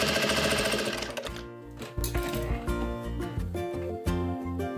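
A sewing machine rattles in quick mechanical bursts while stitching a bag strap, close and clear, with short pauses between runs of stitches.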